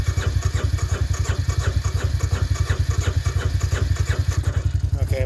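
Engine of the Big Red revved hard during a cold start attempt with the throttle floored, a loud close rapid pulsing chug that holds steady for several seconds before a brief squeak at the end.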